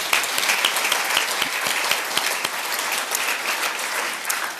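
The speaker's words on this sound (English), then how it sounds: "So let's give INSA a round of applause." Sustained audience applause at an awards ceremony, the 2014 INSA Achievement Awards, with dense clapping that stays steady and loud for the whole stretch.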